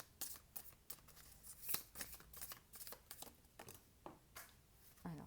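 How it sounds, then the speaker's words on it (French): Tarot cards being shuffled by hand, a close, quiet series of rapid papery riffles and flicks in irregular bursts with a sharper snap partway through. "je vais bien battre les cartes"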